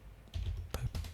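Computer keyboard keys tapped during a 3D modeling session, a few quick clicks close by, soft and brief with faint background hum.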